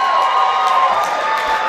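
Loud, dense crowd cheering and applause from an audience at a Dutch sports awards gala, celebrating a young gymnast from a national club-team champion squad, a steady roar filling the whole moment without pause.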